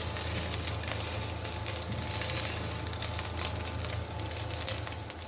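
Chicken pieces frying in a pan of hot oil, a continuous crackling sizzle with a low steady hum underneath, close and fairly loud, no voices.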